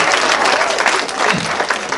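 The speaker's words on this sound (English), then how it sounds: "Hey, adults, give them a round of applause." Adults in an audience at a talk give a round of applause, dense, loud, sustained clapping filling the whole two seconds.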